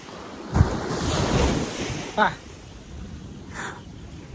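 Sea waves wash onto a Sri Lankan beach in a steady, rushing surge with a few louder breaks, while wind buffets the microphone throughout.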